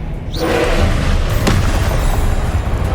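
A heavy boom from the Confringo blasting spell in Hogwarts Legacy. One loud blast hits early, then a crackling rumble trails off under a smaller sharp pop.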